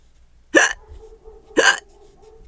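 A voice imitates hiccups, two sharp, loud hic sounds about a second apart, each followed by a soft hum, in a children's story reading.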